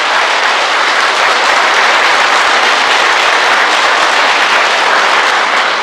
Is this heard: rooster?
no